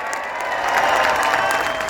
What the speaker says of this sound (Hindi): दिल्ली तक जाए आपकी तालियों का शोर